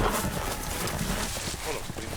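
Horse hooves clip-clop on a puppet fantasy show, a dense, loud, continuous stream of footfalls mixed with crowd-like noise and talk throughout.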